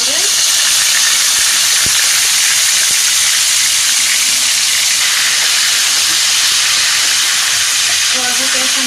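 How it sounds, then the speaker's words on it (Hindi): Ginger garlic paste hitting a pan of lightly browned onions, giving a loud, constant steamy hiss that stays close and even throughout. "अब इसमें हम अदरक लहसुन का पेस्ट डाल रहे हैं।"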